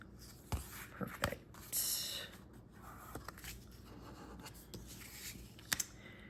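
A bone folder rubbing and pressing along folded card stock to set a crease, producing soft, close scraping strokes with a few sharper taps, quiet and without talk.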